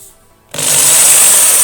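A power drill bores a hole into a spoiler on a Mini R50, R53 or R56, starting suddenly after a short quiet moment and then running as a steady, loud, high-pitched whine.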